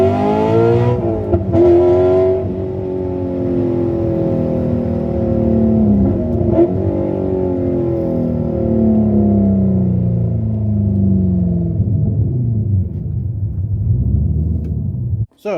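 A Porsche 944 fitted with an LS V8 and almost no exhaust system, loud and close, revving up and then holding a rough, droning idle with falling and rising engine tones, alone without talk.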